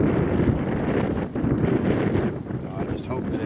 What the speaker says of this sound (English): the wind is blowing from that way